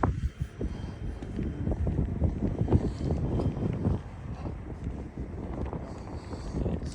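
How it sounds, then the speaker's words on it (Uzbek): Wind gusts across a microphone outdoors on a cold day near a university campus in China, giving a steady, fairly loud low rumble with buffeting swells that ease slightly toward the end. "Shamol bo'layapti bugun."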